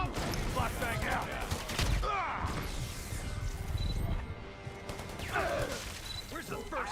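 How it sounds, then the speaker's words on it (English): A flashbang grenade bursts amid sustained gunfire in a tense urban firefight, with sharp cracks, rapid volleys and shouted voices layered over dense, continuous combat noise. "Flashbang out."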